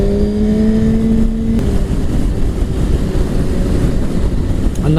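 A Suzuki GSX-R1000 superbike exhaust drones loudly and steadily on the road, a rising tonal note early on giving way to a broad roar mixed with wind buffeting.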